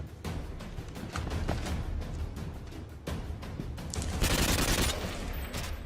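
Gunfire breaks out in an action movie scene: bursts of rapid shots and scattered cracks run throughout, building to a dense, loud volley near the end, with no talking.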